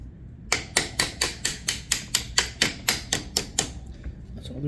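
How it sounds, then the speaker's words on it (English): Light hammer taps on an e-bike motor mount bolt, about a dozen sharp metallic knocks in an even, steady rhythm at close range, with no talking. "So let me lightly tap it out."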